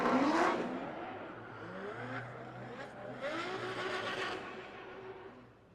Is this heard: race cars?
yes